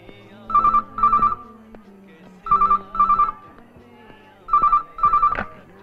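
A telephone rings with an incoming call in a Hindi action film: three pairs of bright electronic trill bursts with pauses between them, over a faint background.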